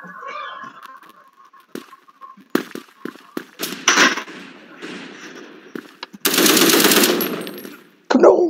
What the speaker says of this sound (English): Want me to shoot again?